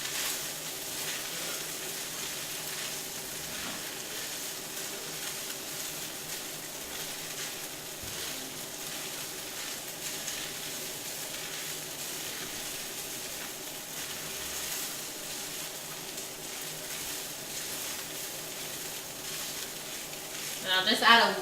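Garlic sizzles and fries steadily in a hot pan, a constant bright crackling hiss with occasional soft scrapes from stirring, rising to a louder clatter at the end.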